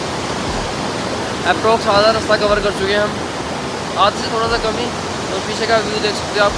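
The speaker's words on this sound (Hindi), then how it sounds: "कितनी तेज़ ये झरना बह रहा है। इसका बहाव इतना तेज़ है कि शोर आप सुन पा रहे हो।" A fast-flowing mountain waterfall on the Kedarnath trek roars as a steady, loud broadband rush, with someone talking over it in the foreground.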